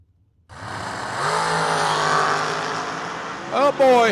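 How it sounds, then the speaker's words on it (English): Two heads-up drag race cars launch together at a drag strip, a sudden loud engine roar swelling into a sustained high-revving scream, close, with a commentator's voice over the end. "Oh boy, heads up drag racing"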